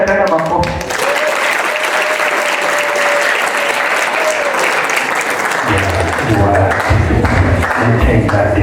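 An audience at a talk applauds with dense, sustained clapping for several seconds, loud and continuous, with a voice speaking over the end.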